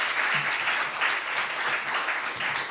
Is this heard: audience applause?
yes